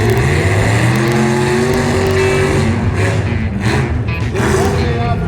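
A Chevrolet demolition derby car runs a time trial at a Walla Walla Frontier Days arena, its engine droning and revving loudly under a public-address announcer's talk.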